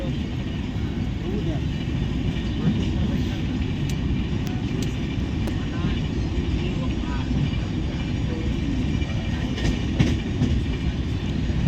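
Steady rumble of a Prayagraj-to-Kolkata train running on rails near Bardhaman, continuous throughout with faint rhythmic clatter and occasional higher squeaks, no voices standing out.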